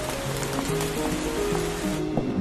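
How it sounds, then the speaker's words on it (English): Steady rain falls at night in a New York street, a dense even hiss of drops on surfaces with soft music underneath, holding fairly loud and constant before the high wash thins near the end. "It was a rainy night in New York"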